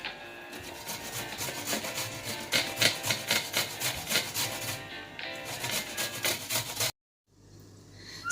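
Raw mango flesh scraped against a hand grater in steady, rhythmic back-and-forth strokes, close and fairly loud, with no talking, ending in a brief silence and a soft clatter.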